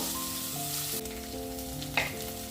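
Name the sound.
urad dal frying in a pan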